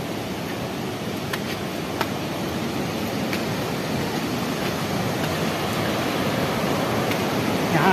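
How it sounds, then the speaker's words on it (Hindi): Hirni waterfall in Jharkhand, a loud, constant broadband rush of falling water heard nearby, steady throughout with faint clicks and no talking. "हिरनी जलप्रपात का ऊपर से नज़ारा आपको दिखाते हैं दोस्तों"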